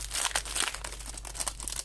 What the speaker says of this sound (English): I'm going to take it out of this plastic too because I really don't care for these little